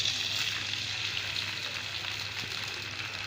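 An egg frying in ghee in a pan over medium heat, giving a steady, even sizzle and crackle that carries on without a break and with no talk.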